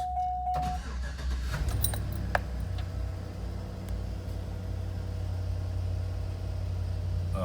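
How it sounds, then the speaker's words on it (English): A bus engine cranks and catches during a CDL pre-trip inspection, then settles into a steady, close, low idle rumble with faint clicks and jingles early on. "So now I start the bus."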